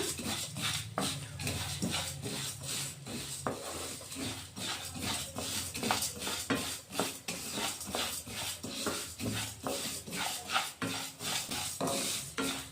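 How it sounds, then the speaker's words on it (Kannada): Cumin and mustard seeds dry-roasting in a pan over a low gas flame, giving a steady dry rasping and scraping as they are stirred, with light clinks of a spoon against the pan and no talking. "ಗ್ಯಾಸ್ ಫ್ಲೇಮ್ ಕಮ್ಮಿ ಇಟ್ಬಿಟ್ಟು ಚೆನ್ನಾಗಿ ಒಂದು ಐದು ನಿಮಿಷ ಹುರಿಬೇಕು ಇದನ್ನು"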